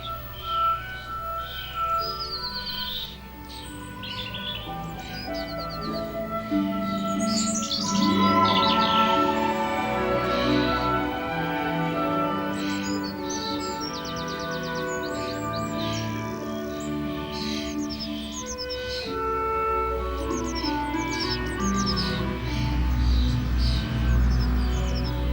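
Many birds chirp and tweet busily at a garden feeder, a blackbird among them, with overlapping bright calls and song phrases continuing throughout at moderate distance.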